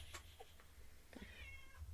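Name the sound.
cat meowing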